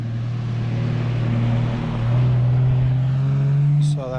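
A car passing on a high mountain road near Volcán Barú, a steady close engine hum that swells louder as it goes by and then fades.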